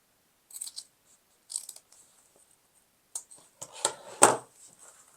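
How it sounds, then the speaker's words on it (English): Scissors cutting felt snip in short, crisp bursts, a few quiet cuts spaced apart, then a cluster of louder snips near the end. "I'm going to take the scissors and cut the corners out"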